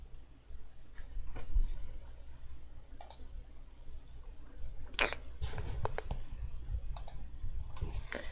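Computer keyboard typing during a game broadcast, scattered clicks and short bursts of keystrokes in the background over a low steady hum, fairly quiet and close.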